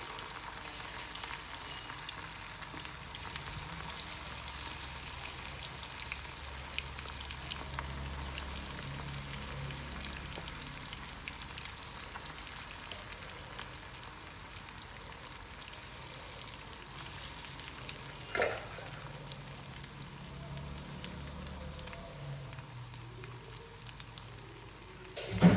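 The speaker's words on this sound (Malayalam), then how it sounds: "ഇനി രണ്ടാമത്തെ ബാച്ചും കൂടി ഇതേപോലെ തന്നെ നമുക്ക് ഫ്രൈ ചെയ്തെടുക്കാം." Chicken pieces fry in hot oil with a soft, steady crackling sizzle, close but quiet, holding evenly throughout, with a brief clatter near the end and no talking.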